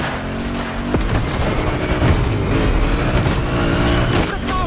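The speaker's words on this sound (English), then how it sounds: "A grail among collectors and Jim's greatest pride, the Mustang Boss 429." A Ford Mustang Boss 429, the classic American muscle car, in the video game The Crew Motorfest: a loud, close V8 roar that surges and revs continuously, with a sharp boom near the start and game music layered underneath.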